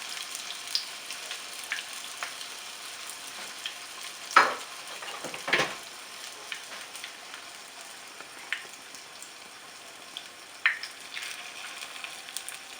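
Oil heating in a pan for Vietnamese bo bun gives a faint, steady crackle and sizzle. A few louder clinks and scrapes come in the middle and near the end, and no one speaks.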